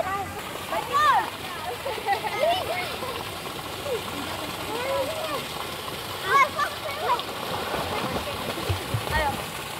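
Swift river water rushing over rocks, a steady broad wash with splashing, while people talk over it.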